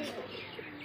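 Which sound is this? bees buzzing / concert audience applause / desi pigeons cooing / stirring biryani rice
desi pigeons cooing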